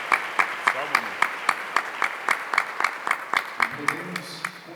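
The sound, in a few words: congregation applauding the Gospel in church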